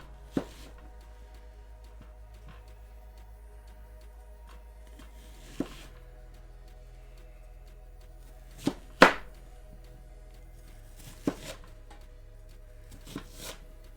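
Sparse, sharp knife chops in an alien cooking video game, a handful of isolated clicks spaced several seconds apart over a faint steady hum, with no talk.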